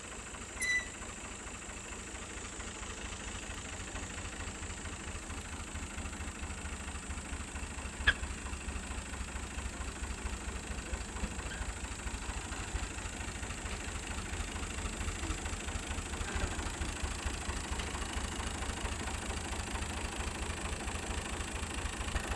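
A farm tractor's engine idling nearby in an open field at night, a steady low chugging throb held for about twenty seconds with a single sharp click partway through and no voices.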